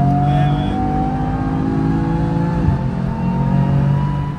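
A BMW M4 accelerating on the Nürburgring track, its engine droning steadily and close with a slowly rising, sustained tone that holds through the clip.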